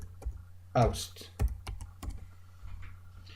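Keys tapped on a computer keyboard at a desk, a short run of soft clicks with someone speaking over part of it.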